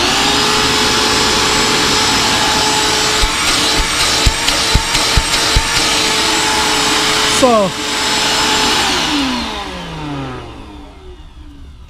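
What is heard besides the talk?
mini 1.5 gallon shop vac running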